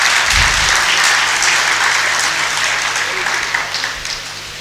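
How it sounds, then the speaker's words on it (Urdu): Audience at a literary festival session on Urdu poetry applauding to welcome poets onstage, a dense burst of hand clapping from a large crowd that swells early and then gradually thins and fades. "بھرپور تالیوں سے ان کا استقبال"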